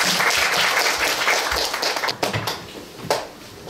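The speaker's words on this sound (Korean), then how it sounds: "박수 한번 받으시죠." Audience applause at a traditional Korean gugak recital in a small theater at Changdeokgung, a dense burst of clapping that thins and tapers with a few scattered late claps.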